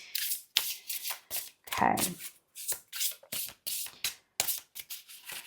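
Tarot cards being shuffled by hand in a quiet room, a run of quick papery riffles and taps in short bursts, with a voice speaking briefly between them.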